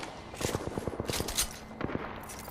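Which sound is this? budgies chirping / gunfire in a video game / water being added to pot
gunfire in a video game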